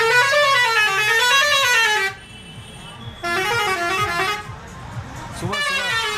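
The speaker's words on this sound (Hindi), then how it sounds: "ये सुबह सुबह जो ट्रक जा रहा है सब हॉर्न बजाते हुए।" Trucks pass by in the morning sounding long, loud blaring horns in repeated blasts with brief gaps between them, while people talk over the horns.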